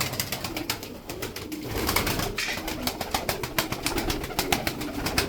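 Thirty Tokat tumbler pigeons keep up a continuous close flutter of wings with irregular sharp flaps and low cooing mixed in.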